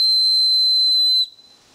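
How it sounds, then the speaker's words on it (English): An emergency whistle on a paracord drawstring is blown once, a piercing, shrill, steady tone lasting over a second before cutting off abruptly into quiet. "The cord comes with an emergency whistle of 120 decibels."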